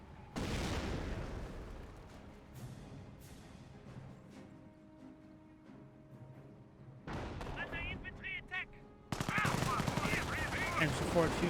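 Machine gun fire in the strategy game Company of Heroes, with repeated sharp bursts and booming impacts, loud stretches separated by quieter gaps, and a voice talking over the battle.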